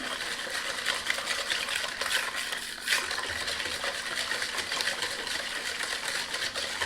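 A whisk beaten through a no-bake lemon dessert mixture in a bowl while it thickens, giving a steady, dense rapid clatter that carries on unbroken, close up and with no talk.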